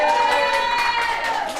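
A live-show audience cheers and claps together, a sustained dense crowd roar with whoops and shouts, fairly loud and continuous throughout.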